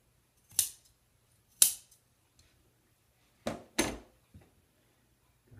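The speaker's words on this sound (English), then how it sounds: "Cut right at the stitch line." Scissors snip through fabric piping right at the stitch line of a cornice valance, giving a few sharp, separate cuts: two isolated snips, then a quick close pair, with quiet gaps between.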